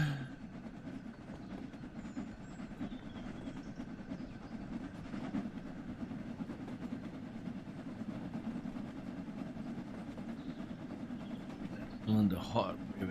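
A steam locomotive on the Peak Forest railway gives a steady low rumble of wheels and engine, with a brief sharper burst near the end. People talk nearby over the sound.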